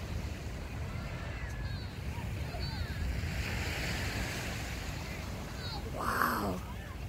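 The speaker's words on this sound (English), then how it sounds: "Love to get pictures of crashing waves. Should be, can hear them rumbling." Ocean surf rumbles and washes onto a sunny shore in a steady wash of noise, with wind buffeting the microphone and a faint voice or bird-like chirps near the end.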